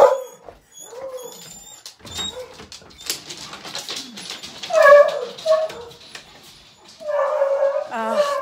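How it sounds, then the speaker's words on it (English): Beagles yelp, whimper and bark in short, scattered bursts indoors, some near and some farther off, with a few howling yips toward the end. "This is what I get for having 5 beagles, right?"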